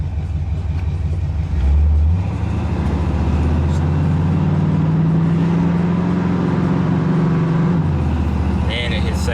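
A 1987 vehicle pulls away from a dead stop, its engine note climbing steadily through first gear before dropping as it shifts, close and loud from inside, with a person talking over it.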